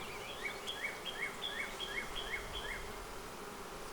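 Honey bees buzz on a hive frame of honey and bee bread, a soft steady hum over which a repeated chirping call pulses about twice a second, with no speech.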